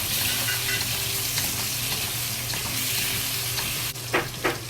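Sichuan red chili peppercorns frying in a pan for big plate chicken, a steady close sizzle over a low hum, ending with two brief louder scraping stirs.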